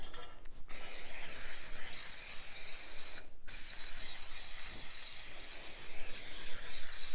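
Aerosol cooking spray hisses onto cake pans in a kitchen, a steady broadband spray running nearly continuously for about seven seconds, with two brief sharp gaps where the nozzle is released and pressed again.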